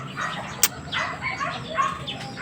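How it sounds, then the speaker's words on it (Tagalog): Neighbors' chickens cluck and chirp at a distance in a backyard near a guava tree and cages, with a short sharp call standing out among steady low background noise. "Ang ingay dun, yung mga manok nila."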